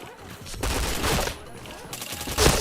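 Automatic gunfire rattles in a video game shooter, with rapid bursts of loud, dense shots in several volleys, close and punchy, over a steady game background.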